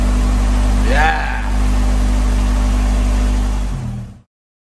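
Modified Honda Civic EG fitted with an Integra DC2 engine running on a dyno, a loud steady engine drone with a short rising rev partway through, then cutting off abruptly into silence.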